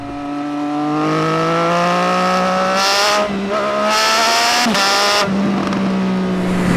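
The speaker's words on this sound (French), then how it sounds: "Et cette moto de 150 chevaux qui délivre son coup très tôt à 7500 tours." 2018 Triumph Speed Triple 1050 RS, a 150-horsepower motorcycle, accelerating hard, its engine note climbing loud and close through rising revs, with brief breaks between gears and a sharp whine near the end.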